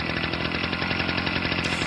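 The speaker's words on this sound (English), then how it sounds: "I'll play the leaf blower" A leaf blower roars steadily and loudly up close for the whole stretch, a continuous dense engine drone with no voices over it.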